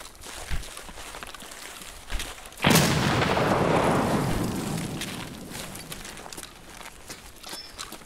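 A grenade goes off in the video game Escape From Tarkov, a single loud, close blast that rumbles and slowly decays over several seconds, with faint footsteps and small knocks before and after.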